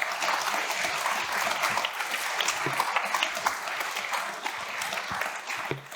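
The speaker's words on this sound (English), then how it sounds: "Well, round of applause to each of our panelists." Sustained, dense applause from a conference audience honouring panelists at the close of a data engineering panel discussion, a steady wash of many clapping hands throughout with no voices on top.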